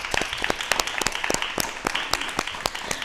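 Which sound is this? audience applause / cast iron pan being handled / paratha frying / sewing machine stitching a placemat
audience applause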